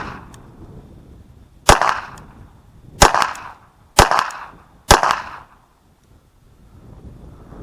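Four sharp, loud shots from a Ruger LCP II .380 pistol fired at a target about 15 feet away, spaced roughly a second apart with a short echo after each, no talking.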